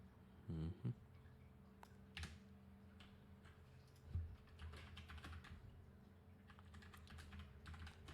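Computer keyboard keys tapped while deleting code, sounding as soft, irregular clicks close by with short pauses, a couple of louder knocks early on and a quiet room behind.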